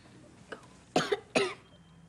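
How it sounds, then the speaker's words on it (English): Two or three short coughs come close together, the first faint and the last two harsh and loud, in a quiet room. "I think I have a cough."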